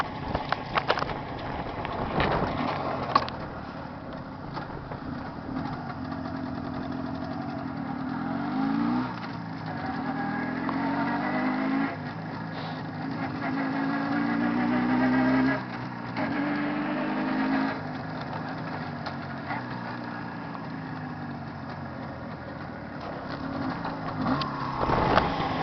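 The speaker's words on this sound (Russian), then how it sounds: "мотор проверочный" A Jawa 634 motorcycle engine runs on a test after ignition adjustment, idling and revving in uneven bursts with rising and falling pitch, fairly close and heard alone.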